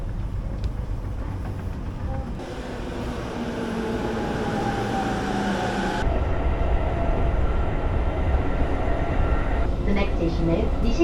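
A Japanese commuter train rumbles along steadily with a low mechanical roar that shifts in tone partway through, heard from inside or close by.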